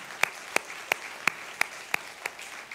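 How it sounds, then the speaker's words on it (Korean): Members of a church congregation at a Sunday worship service clap in slow unison, eight sharp, evenly spaced beats. The claps sound fairly faint and distant, with no talking. "우리의 인생 가운데 그렇게 이루신 하나님께 찬양과 영광의 박수를 하나님께 올려드리도록 하겠습니다."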